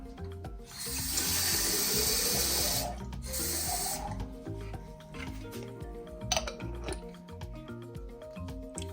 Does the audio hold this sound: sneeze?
no